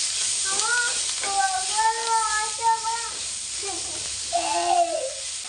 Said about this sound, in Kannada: ಒಂದು ಆರು ಮೆಣಸು ಸಾಕು ಇದು ಫ್ರೈ ಆಗುತ್ತೆ